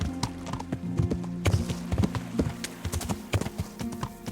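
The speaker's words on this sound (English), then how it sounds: "My horse at speed." Horse galloping at speed in the medieval video game Kingdom Come: Deliverance, its hooves beating a quick, steady clip-clop rhythm up close, with snorting and tack noise and no voices.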